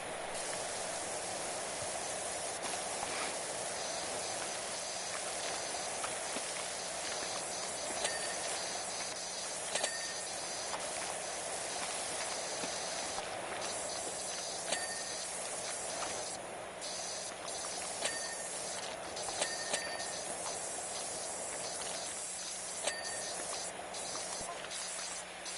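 Continuous steady hiss of a pressure washer spraying in Power Wash Simulator 2, faint and unbroken for the whole stretch, with small clicks and ticks scattered over it.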